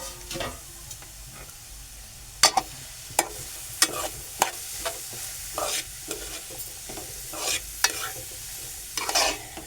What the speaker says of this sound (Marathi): अर्धा तुपात परतून घ्यायचं आहे